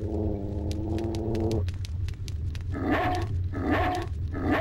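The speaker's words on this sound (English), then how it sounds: "And barking. Whose side are you on, dog?" Huey the dog in the Haunting Ground video game barks several times in quick bursts, loud and close, following a sustained droning tone, with a steady low rumble underneath.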